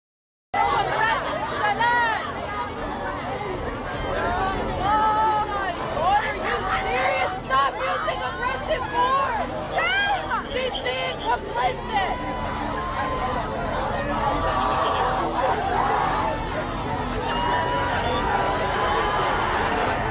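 A large protest crowd in a mob scene during college campus clashes, a dense, continuous babble of many voices with shouting and occasional cheers, loud and steady throughout.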